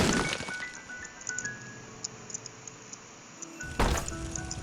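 A bomb detonates in The Binding of Isaac, a short, heavy burst near the end that rises sharply out of quiet game music and small effect blips.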